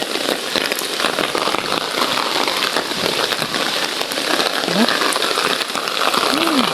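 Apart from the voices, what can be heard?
rain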